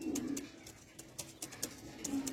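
Several pigeons coo in low, rolling phrases close by, with soft wingbeats or rustles in between and no talking.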